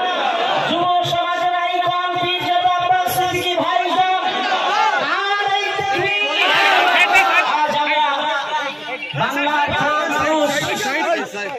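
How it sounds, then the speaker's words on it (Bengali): A large crowd at an Islamic religious gathering in Bengal loudly shouts the slogan Naraye Takbir in unison, several surging bursts of massed voices ringing out close and strong. "আরো জোরে বলেন নারায়ে তাকবীর"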